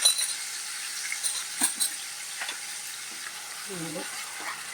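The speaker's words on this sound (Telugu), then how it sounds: "ఉల్లిపాయ గ్రేవీ వేస్తాను." Onion gravy going into a pan and being stirred, a soft, fairly quiet sizzle with a few light clinks and scrapes of the utensil near the start.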